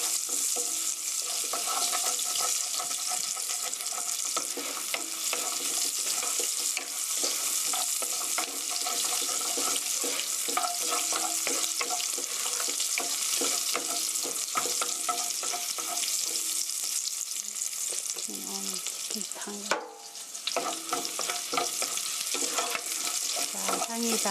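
Garlic and onion sizzle steadily in a hot pan for chicken tteokbokki, a dense continuous frying hiss with occasional stirring scrapes, loud and close throughout.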